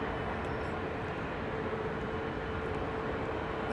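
Airbus A330-900 airliner at London Heathrow, a loud steady engine rumble and roar with a faint whine running through it, sustained evenly with no talk.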